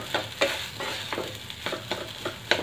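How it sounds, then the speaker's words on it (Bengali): A spatula stirs singara potato filling frying in a pan with a little oil, turmeric and red chilli powder, giving repeated scraping strokes roughly every third of a second over a faint, steady sizzle, close by and with no talking. "ভালো করে নেড়ে নেব।"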